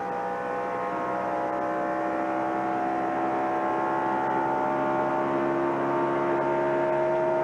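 Steady engine roar with layered droning tones, loud and continuous, like race cars running together at a distance during the 1996 Miller 500 race, with no voices.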